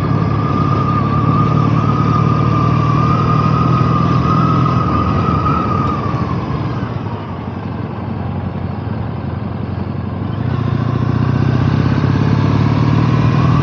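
A Triumph T100 motorcycle engine runs steadily and loudly on a ride through the Yorkshire Wolds, a constant droning hum that eases slightly midway as the bike slows, then picks back up.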